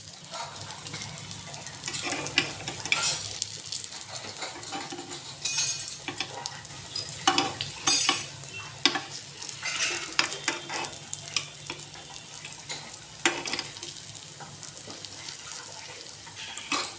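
Moong dal appe fry in a covered appe pan with a steady close sizzle, broken by scattered clinks and scraping stir sounds, with no voices.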